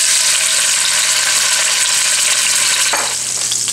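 Chopped stew beef browns in a quarter cup of hot olive oil in a pot on medium-high heat, giving a loud, dense, continuous sizzle with no talking.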